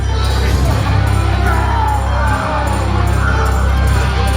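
A loud, dense crowd at a Halloween Horror Nights show cheers, whoops and shouts continuously, a close, roaring wall of celebration with no pause.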